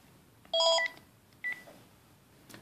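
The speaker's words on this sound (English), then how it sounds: "I got to answer the house phone" Touch-tone beeps from a house phone, a longer tone burst followed by a shorter one, clean and moderately loud over a quiet background.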